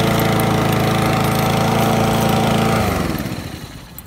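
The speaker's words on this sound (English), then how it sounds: "I'm gonna grab the blower and the battery blower and the battery trimmer" A battery-powered leaf blower or trimmer runs loud and close with a steady whine, then winds down and fades over the last second.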